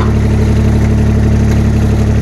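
A Bolens QT 16 garden tractor engine, cold and troublesome, runs steadily at a low idle, a loud continuous drone with a throbbing low pulse and no break.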